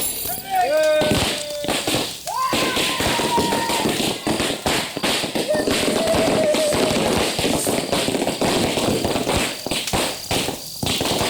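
Firecrackers go off in a dense burst of sharp cracks and pops at a festive gathering, while people talk and shout over the noise and crackling continues throughout.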